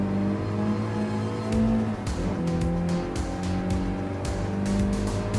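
A modern Mini Cooper S races in Gran Turismo Sport, its engine revving steadily through gear changes with rising and falling pitch and several short tire squeals, close and continuous.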